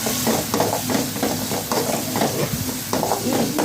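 Onion with ginger garlic paste sizzles in hot oil while being stirred, giving continuous frying crackle broken by repeated scraping stir strokes.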